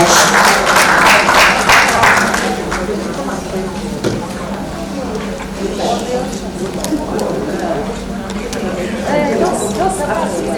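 A conference audience at a medical women's association gathering in Lagos applauds, a dense wash of clapping that is strongest at first and then fades beneath a voice over a microphone.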